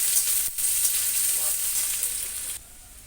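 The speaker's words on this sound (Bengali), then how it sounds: "দিয়ে দেব রসুন, পেঁয়াজ। এটা সুন্দর করে একটু ভেজে নেব।" Garlic and onion fry in hot oil with cumin and bay leaf, giving a dense, close hiss of sizzling that cuts off sharply near the end, no voices.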